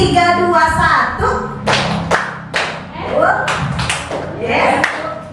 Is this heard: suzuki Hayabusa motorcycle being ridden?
no